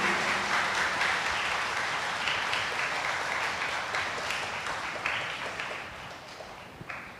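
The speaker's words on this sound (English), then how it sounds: "Let us give them a big round of applause." A large crowd applauds steadily at a church Mass, a dense wash of clapping in a reverberant hall that slowly tapers off.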